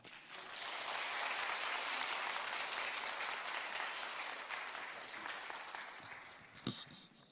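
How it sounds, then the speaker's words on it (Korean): A church congregation at a Korean praise-team dedication service claps to welcome a visiting professor, a broad, rising swell of applause that stays full, then thins toward the end, where a few sharper claps stand out. "우리 교수님 나오실 때 우리 박수를 치면 박수로 환영하면서 격려하고"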